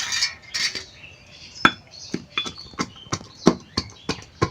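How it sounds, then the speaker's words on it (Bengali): Garlic cloves are crushed by hand in a village kitchen for a dried lotia fish curry, about a dozen sharp, close knocks and clacks in a loose, uneven rhythm with quiet gaps between strikes. "আমি রসুনটা এখন ছেঁচে নিব।"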